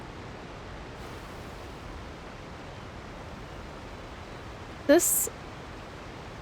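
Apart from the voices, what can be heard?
loud waterfall in Fontaine, from the video game Genshin Impact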